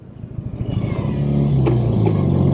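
A 1971 BMW R75/5 motorcycle engine runs close by, a low chugging rumble that builds in loudness over a couple of seconds into a steady, smooth drone.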